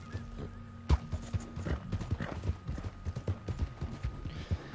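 Horse hooves clip-clop in an uneven, quick rhythm with an occasional whinny in Red Dead Redemption 2, faint and steady throughout, with no talk.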